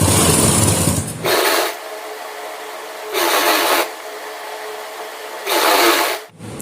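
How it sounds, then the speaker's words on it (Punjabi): A sewing machine stitches a belt onto a salwar, running in three loud, close bursts of rapid mechanical whirring separated by short quiet pauses. "ਇਸ ਤਰ੍ਹਾਂ ਆਪਾਂ ਨੇ ਸਲਾਈ ਲਗਾ ਦੇਣੀ ਆ"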